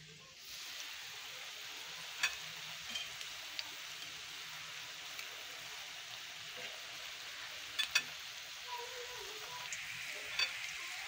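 Beef keema kebabs fry in a pan with a steady, soft sizzle throughout, broken by a few small pops and crackles; fairly quiet, with no talking.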